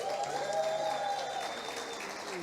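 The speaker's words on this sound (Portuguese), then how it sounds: "Uma salva de palmas." A church congregation applauds during a service, a dense wash of clapping from a large crowd, steady and sustained, with organ-like tones held underneath.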